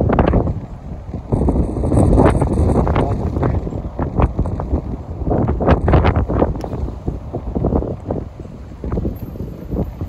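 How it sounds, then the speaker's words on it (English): Strong wind buffets the microphone in loud, continuous rumbling gusts at a railway station at New Barnetby, with no talk over it. "Really windy now"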